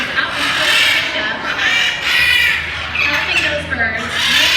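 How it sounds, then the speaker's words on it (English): Macaws, scarlet macaw among them, give harsh, raspy squawks in repeated bursts through the clip, fairly loud and close, with a low steady hum underneath and talk running alongside. "there are a few species of macaws up here, like the scarlet macaw, this red bird right here"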